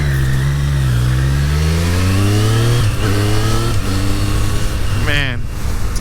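A 2023 Triumph Street Triple 765 RS motorcycle engine while riding, revving up through gears with rising pitch sweeps, loud and close, with a brief shift and another climb near the end.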